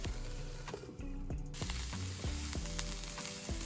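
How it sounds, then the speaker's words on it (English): Tempeh and leek sizzle steadily in a covered pan with salt, a busy close crackle broken by light clicks and knocks of the lid or utensil. "Once the tempeh is golden, add the leek, add some salt, cover it, and cook it for about 5 minutes."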